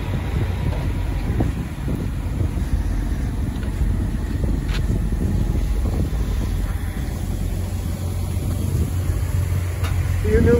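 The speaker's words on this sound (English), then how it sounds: "It is windy." Steady, loud wind buffeting the microphone, a constant low rumble throughout with some faint background noise.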